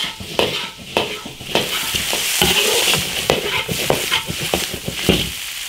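A spatula scrapes and stirs braised lamb leg meat in an iron wok. Repeated metallic strokes ride over a steady, loud sizzle, with no talking.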